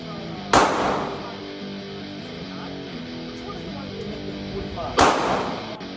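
Two sharp, loud shots from a compact handgun, spaced about four seconds apart, each a crisp snappy crack with a short ringing decay.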